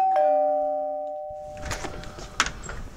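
A front-door doorbell gives a single clear ding-dong chime that rings out and fades, followed by soft thumps and faint household noise.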